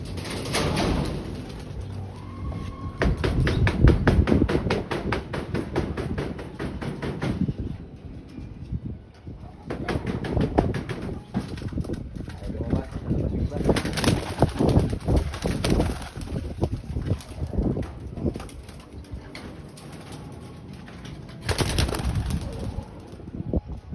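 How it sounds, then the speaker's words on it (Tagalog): Soft pigeon coos and bird calls repeat in bursts over a steady rustling background, with occasional flutters and clatter nearby. "Ayun yung mga kalapati natin."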